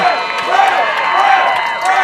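Crowd at a varsity high school football game cheering after a touchdown, a steady, loud roar of voices with whoops, heard at a distance throughout.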